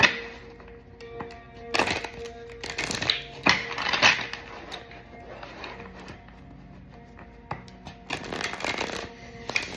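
An oracle card deck being shuffled by hand, with crisp riffling bursts and card snaps coming in several clusters separated by quieter pauses, close and clear.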